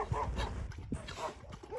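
Three puppy siblings yip, bark and whimper close by in a short excited flurry of high, uneven calls.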